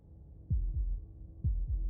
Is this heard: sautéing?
no